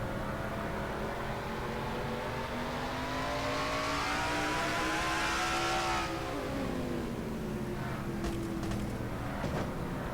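A race car engine in an on-board view from an oval racing video game holds a steady drone, climbs in pitch through an upshift, then drops and settles, loud and continuous with no talk.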